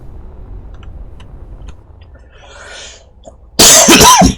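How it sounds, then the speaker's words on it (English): One loud, harsh cough bursts suddenly out of a near-quiet background of faint ticks and rustling, close to the microphone. "sorry for coughing in your ear"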